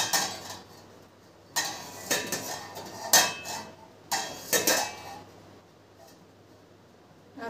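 A lid goes onto a metal cooking pot in a home kitchen, several sharp clinks and clattering knocks coming in short bursts over a quiet background, with no voices.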